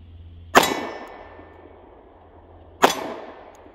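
Two sharp pistol shots from a SCCY CPX2 Gen3 or Ruger LC9s Pro ring off steel silhouette and plate targets, each a loud crack followed by a metallic clang that decays over about a second, spaced roughly two seconds apart with no talking.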